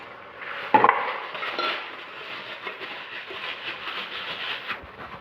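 Raw chicken being washed in a bowl in a home kitchen for chicken curry, with sloshing water and soft clinks of the bowl and pieces, one sharper clank near the start, fairly quiet and close.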